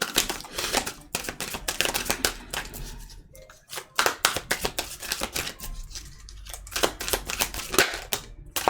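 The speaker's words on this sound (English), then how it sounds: "Let's get these shuffled." Shiny tarot cards are shuffled close by in quick, crisp riffling bursts with short pauses between them. No one speaks.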